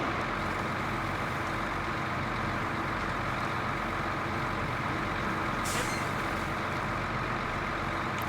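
A heavy vehicle on heavy tires pulls a trailer, its engine a loud, steady, continuous rumble throughout, with a brief hiss partway through.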